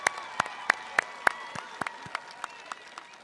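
Sparse, fairly distant applause for students at a high school graduation ceremony, with distinct individual claps spaced out over a quiet room rather than a dense ovation.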